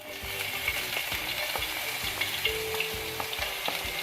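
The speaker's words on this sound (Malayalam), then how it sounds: "എണ്ണയിലിട്ട് ഒന്ന് മൂത്ത് വരണം" Chili, ginger, garlic and curry leaves fry in hot oil for a chicken pathiri recipe, giving a steady, close sizzle with scattered crackles and pops throughout.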